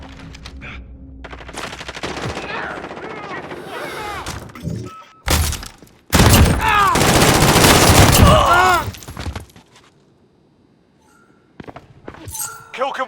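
Rapid bursts of shotgun and automatic gunfire in the video game Modern Warfare, loud and close, with sharp blasts, shattering clinks and short gaps between volleys, plus game voice callouts in places.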